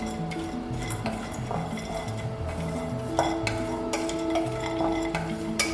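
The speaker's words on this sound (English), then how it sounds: "So give it a nice stir on low heat." Raisins and dry fruit are stirred in a pan over low heat, with continuous scraping and light clinking of a spoon against the pan, under soft background music.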